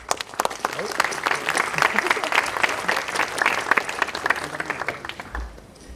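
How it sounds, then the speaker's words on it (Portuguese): An audience applauds a conference speaker as he comes up, a dense and fairly loud burst of clapping that carries on steadily before thinning out near the end. "Lo recibimos igual con fuertes aplausos"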